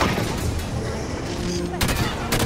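Rapid bursts of gunfire fill a Halo 5 battle, loud and close, with dense overlapping shots and a few sharper cracks near the end.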